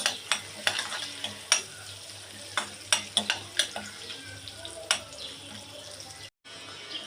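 Raisins, chopped almonds and cashews fry in butter in a pan, a steady sizzle punctuated by close, repeated scraping stirs in a loose rhythm, with a brief silent gap near the end.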